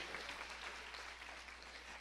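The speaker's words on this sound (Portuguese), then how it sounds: "Você pode aplaudir ao Senhor?" A church congregation claps together in a dense, soft patter of many hands, continuous and moderately distant, with no talking over it.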